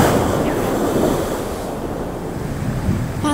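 Ocean surf crashes against the cliffs of Batu Pica beach on Biak island, a loud, continuous roar of breaking waves mixed with heavy wind buffeting the microphone.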